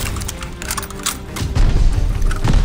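A planted bomb detonates on the objective in Call of Duty: Vanguard, a heavy close boom rolling in halfway through after scattered clicks and clatter, its low rumble lingering to the end.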